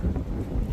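Wind on a frosty winter bushcraft outing roars as a low, gusty buffeting that batters the microphone up close, with no voices.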